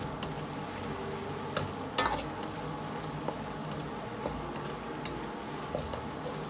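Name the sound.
stir-frying spicy chili sauce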